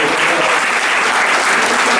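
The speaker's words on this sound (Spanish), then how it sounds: "Denle un aplauso a Dios que recompensa en público" Church congregation applauding during a Sunday school service, a dense, loud, steady wash of many hands clapping throughout with no breaks.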